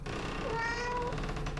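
A single cat meow in the video game Pieces of Me, one short, clear, rising-then-falling mew heard close and alone over a soft background hum.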